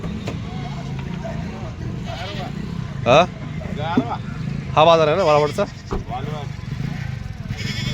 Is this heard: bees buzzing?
no